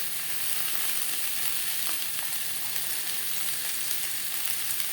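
Tomatoes and green chilies sizzle in a hot pan while butter chicken is being made. The frying hiss is dense and steady through the whole stretch, close and even, with no voices over it.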